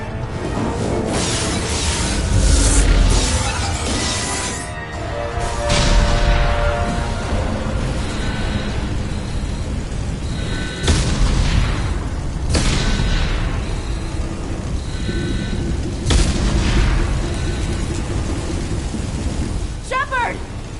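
A starship coming under attack in Mass Effect 2, with repeated deep explosions and rumbling impacts breaking over a constant roaring, crackling din of damage, while voices call out urgently in between.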